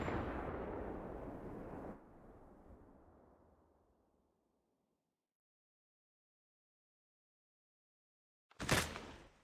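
Sniper fire in Call of Duty Mobile: a loud blast that rumbles and fades over a few seconds, then silence, then a single sharp crack near the end.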